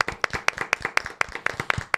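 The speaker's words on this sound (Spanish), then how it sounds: "Un aplauso." A small gathering bursts into applause, with rhythmic, crisp claps repeating quickly and close by; individual sharp hand strikes stand out in a regular beat over two seconds.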